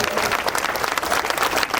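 Dense, steady audience applause fills a crowded hall during a quiz segment at a large cultural gathering, many hands clapping together near and loud with no pauses for the full length.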